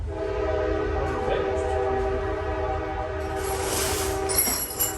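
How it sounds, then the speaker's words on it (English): A train rumbles past nearby, its horn sounding a long sustained tone over the steady roll of wheels on the track. "What's all that noise I'm hearing? Train."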